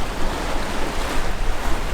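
Waves rushing against a sailing catamaran's hulls under wind near the mouth of the Chesapeake, a loud, dense, continuous wash with gusty buffeting and no voices.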